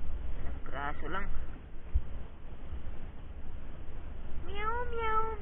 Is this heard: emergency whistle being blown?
no